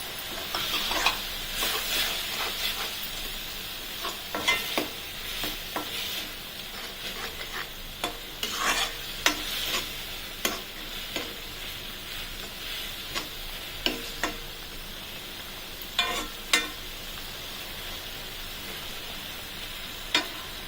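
Ginger-garlic paste fries in a pan for a potato gravy, giving a continuous close sizzle broken by frequent sharp taps and scrapes of a spoon stirring.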